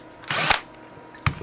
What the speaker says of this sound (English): I'm now just going to drill my hole